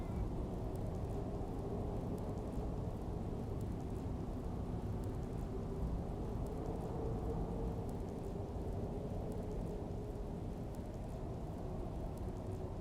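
Rain and thunder in the Digital Devil Saga video game, a dense, steady downpour with low rumbling thunder rolling beneath it, continuous and even with no voices.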